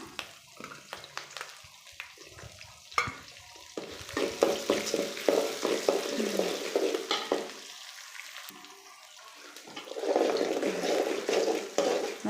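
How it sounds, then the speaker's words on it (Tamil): Oil sizzles and crackles steadily as garlic, green chillies, chana dal and urad dal fry, with occasional stirring scrapes; the frying grows louder and denser toward the end. "நல்லா பூண்டு கடலப்பருப்பு உளுத்தம்பருப்பு எல்லாமே சேர்ந்து நல்லா ரோஸ்ட் ஆகட்டும்"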